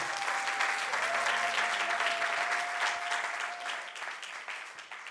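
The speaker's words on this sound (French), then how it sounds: "Acclamons pour la gloire de Dieu." A church congregation at an ordination service applauds together, a dense, sustained burst of clapping that carries through the whole stretch and thins slightly toward the end, with a faint held tone from an instrument or voice beneath.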